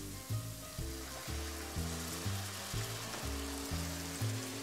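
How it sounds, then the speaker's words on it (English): Red wine poured into a hot pan with cooking pork sizzles as a steady broadband hiss, set under prominent background music with stepping tonal notes. "I'm going to go ahead and add a little bit of red wine."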